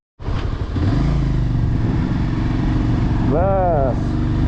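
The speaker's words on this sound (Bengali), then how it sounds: "চলো ইয়ার, বাইক স্টার্ট করতে হ্যাঁ" A motorcycle engine sputters to life abruptly and settles into a loud, rumbling idle close by, with a voice briefly heard over it, on a mountain road near Changu Lake and Nathula Pass.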